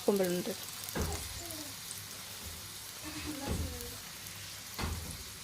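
Hot oil sizzles in a pan, a soft continuous crackle under brief stretches of a voice, with a few louder clinks and stirring bursts spaced through the clip.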